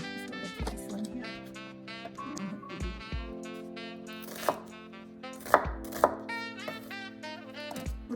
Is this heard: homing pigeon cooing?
no